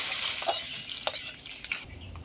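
Hot spice tempering (phoron) tipped into mango dal, a steady crackling sizzle with clinks and stirring scrapes of a ladle against the pot, close and alone.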